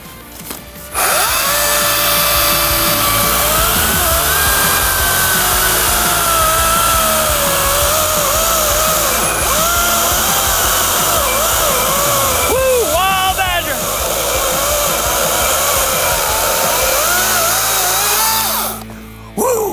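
A Wild Badger chainsaw roars continuously and loudly, its engine pitch rising and dipping as it bites through wood, then cuts off near the end.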